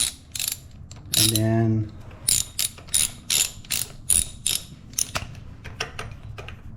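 A ratchet clicks in quick bursts while backing out a 16 mm spark plug on a 2001 Honda Civic, the close metallic ticks coming in short runs with a brief pause between them, and a voice speaks briefly.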